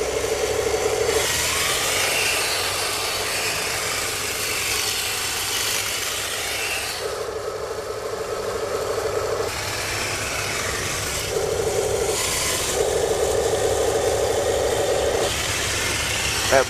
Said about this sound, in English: in a second here, you'll see just how great this tank drives